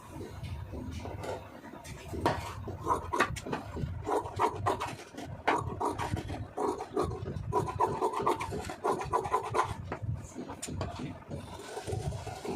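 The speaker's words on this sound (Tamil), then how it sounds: "இப்போ நான் உங்களுக்கு வரைஞ்சி காமிக்கிறேன்" Chalk or marker scratches out marking lines on blouse fabric for tailoring, a series of short, close rasping strokes in an irregular rhythm, with faint talking now and then.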